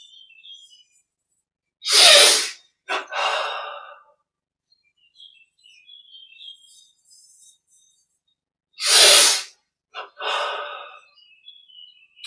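Two sharp, deep nasal inhalations during guided meditation breathing exercises, each followed by a shorter breath, separated by long quiet gaps with faint bird chirps in the background.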